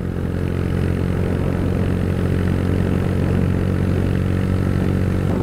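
Steady, loud engine drone of a 2022 Honda Grom motorcycle with a five-speed gearbox, a constant low hum running unbroken throughout with no gear changes or talk, ridden uphill in chilly shade on the way to a lake.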